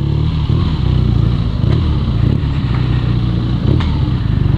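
A 2017 BMW R nineT motorcycle engine runs loud and close, with a steady, throbbing low rumble and a few brief rises in revs throughout.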